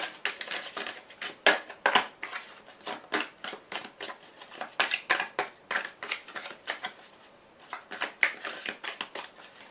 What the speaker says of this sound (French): Je vais vous rajouter une carte de l'oracle bleu.